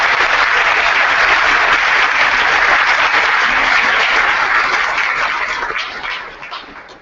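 Audience applause for graduates at a university commencement ceremony, loud sustained clapping that tapers off toward the end.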